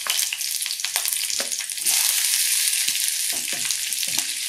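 Green chilli and capsicum fry in oil inside an electric kettle, making a loud, continuous sizzle with occasional stirring scrapes and knocks.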